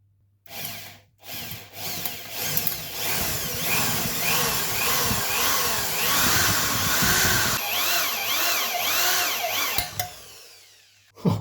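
A drill boring an oil hole into a Harley Davidson engine case, a sustained whining grind with shifting pitch as the bit bites into the metal, running for several seconds before cutting out with a jolt.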